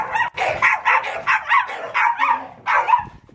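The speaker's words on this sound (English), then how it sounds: "That's what the dogs are like next door." Dogs next door bark in a rapid, repeated series of loud yapping barks that run almost without a break, fairly close, with no talking over them.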